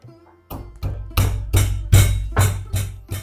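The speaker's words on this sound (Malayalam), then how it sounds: "ഈ വെളുത്തുള്ളിയും ഈ ചുമന്നുള്ളിയും ഇതിനകത്തോട്ടൊന്ന് ചതച്ചെടുക്കാം" A rhythmic series of heavy pounding thuds, about eight strikes in quick succession, as garlic and shallots are crushed nearby for a cucumber buttermilk curry.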